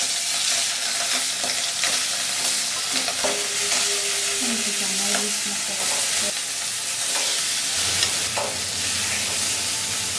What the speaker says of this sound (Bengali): তেল গরম হয়ে গেছে দিয়ে দেবো মাছগুলো